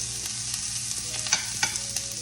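Shrimp sizzle steadily in a pan with avocado oil, a close and continuous hiss with a few sharp pops and crackles, and no talking.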